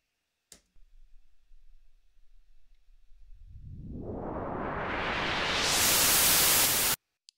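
EDM white noise riser split hard left and right: after a near-silent start with a faint low hum, a hiss rises steadily in pitch and loudness over several seconds, then cuts off abruptly.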